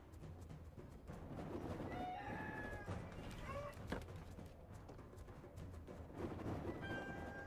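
A video game rooster crows and clucks over a dense, steady game soundscape, its calls fairly faint and broken into short bursts.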